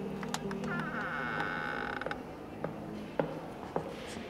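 A door creaks slowly as it swings shut, a drawn-out strained squeal followed by a few small clicks and knocks, heard alone at moderate level.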